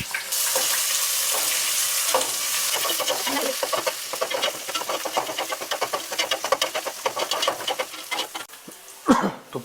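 Onions frying in a pan for mutton biryani, a close, steady sizzle with a rapid run of spatula scrapes and taps against the pan, ending in a louder clatter.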